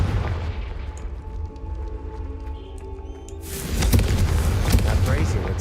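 A Confringo fire-blast spell explodes in the Hogwarts Legacy video game: a loud burst partway through gives way to a sustained, roaring wash of noise over steady low game ambience.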